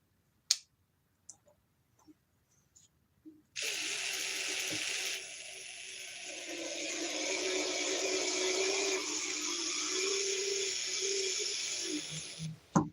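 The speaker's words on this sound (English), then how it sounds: "I'm going to break this drill in the right way" A cheap cordless drill runs continuously at a steady high whine during break-in, starting after a few faint clicks and holding loud and even until it stops near the end.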